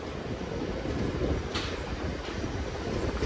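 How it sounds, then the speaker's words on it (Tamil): A Coimbatore–Shornur MEMU passenger train runs along the line in Kerala, a loud steady rumble of wheels and carriages with a brief squeal of high-pitched rail noise midway. "பகல் நேரத்தில் கேரளாவில் ஓடுற ஒரு ட்ரெயின் இது"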